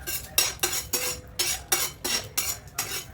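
Raisins roasted in a pan for pineapple kesari, with a spoon stirring in steady rhythmic strokes, about eight scraping sweeps against the metal, close and clear.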